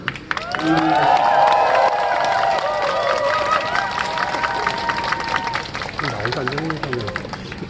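Crowd at a protest rally clapping and cheering, a broad sustained wash of applause with scattered shouts, while a voice speaks over a loudspeaker throughout.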